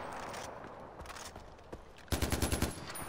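AK rifle fire in the video game Far Cry 4: scattered shots and movement at first, then a fast rapid burst of automatic gunfire, loud and close.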